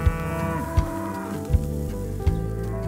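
Cows moo in a long, deep, sustained call close by, with a few brief thumps punctuating the lowing and no talk over it.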